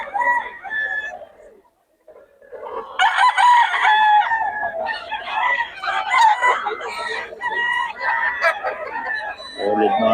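Roosters crow and chickens cluck at a busy Bocaue poultry market where birds are sold. Loud, overlapping calls run almost without break after a short lull, with voices talking in the background.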